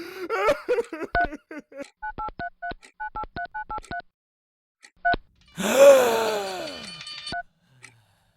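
A telephone keypad is dialed in short bursts of DTMF tones, several quick runs of beeps with gaps between them, followed by a loud groaning, wailing voice and a final beep.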